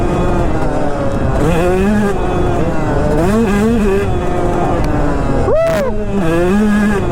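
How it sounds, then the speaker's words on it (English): A 250cc two-stroke dirt bike ridden hard nearby, its engine droning and revving up and down repeatedly with rising and falling pitch, and a person's voice cheering briefly over it. "He's absolutely shredding on that 250. Why is he 250 two-stroke, man?"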